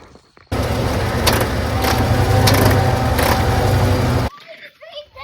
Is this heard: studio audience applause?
no